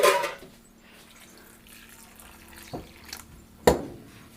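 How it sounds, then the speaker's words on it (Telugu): Water splashes while boiled food is washed in a kitchen vessel, with a wet burst at the start, quiet trickling and occasional clinks or splashes, and a sharper splash near the end; no speech. "దీంట్లో మళ్ళీ వాటర్ పోసేసి కడుగుతాను మంచిగా"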